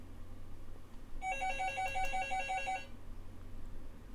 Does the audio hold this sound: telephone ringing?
yes